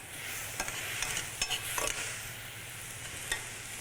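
Lo mein noodles frying in a pan as sauce deglazes the bottom, a steady close sizzle with a few brief scraping stir sounds, no voices.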